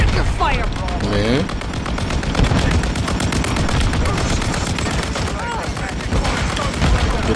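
Dense, rapid gunfire in Modern Warfare 3 rattles continuously through the whole stretch, loud and busy with overlapping bursts, while voices talk over the shooting.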